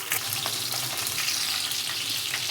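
Onions hitting hot oil with cumin and fennel for radish chutney, a dense steady sizzle and crackle close to the pan, with no talk.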